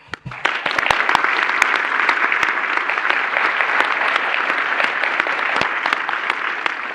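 A conference audience at the POPL 2024 SIGPLAN awards session claps for the distinguished paper awardees, sustained close applause with sharp individual claps standing out over the steady patter, starting abruptly and holding level.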